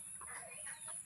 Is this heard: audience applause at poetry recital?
no